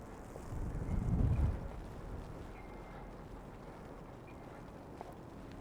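Strong gusts of winter storm wind buffet the microphone on a snowy downtown Toronto street at night, swelling into a loud rumbling burst early on before settling into a steady low roar.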